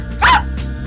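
A dog lets out a single short, close bark, quickly over, against a steady low background hum.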